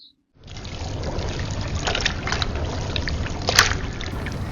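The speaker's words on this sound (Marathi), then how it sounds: "आता आपले हे जाड पोहे आहात ना त्याका मी एक पाण्यात स्वच्छ असा धुवून घेतोय" Water sloshes and pours continuously at close range as thick flattened rice is rinsed in a container, with a few louder splashes.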